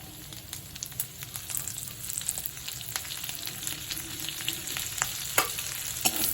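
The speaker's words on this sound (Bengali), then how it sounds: "এইবার আমি দেব রসুন কুচনো" Chopped garlic frying in a wok among leftover fried prawn bits, a rising crackling sizzle with sharp pops and a stirring scrape growing louder toward the end, close by with no speech.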